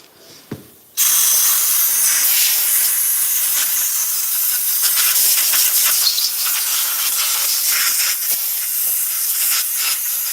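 Compressed air or spray hissing steadily and loudly as a milling machine fixture is blown out, starting abruptly after a brief pause and continuing in a dense, close, slightly fluctuating rush with no talk.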